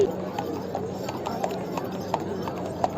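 Horse hooves clip-clopping on a street at the Ridge in Shimla, a steady rhythmic trot of hard hoof strikes heard under people talking nearby.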